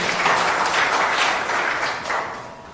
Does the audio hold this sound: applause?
yes